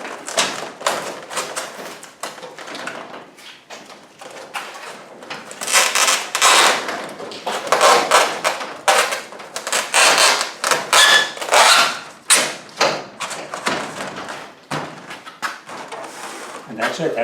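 A foam insulation panel is pushed and fitted into a garage door panel, making irregular scraping, rubbing and tapping noises at close range, with a person talking over them.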